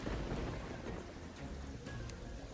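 A thunderstorm in the game Terraria, with steady heavy rain and a low rumbling roll of thunder filling the background at an even level throughout.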